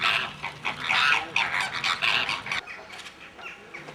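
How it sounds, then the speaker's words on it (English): A noisy flock of greater flamingos at a lagoon honking and gabbling together, a dense overlapping chorus of nasal calls that fades slightly toward the end. "This is the Flamingo Lagoon, which holds the UK's largest flock of greater flamingos."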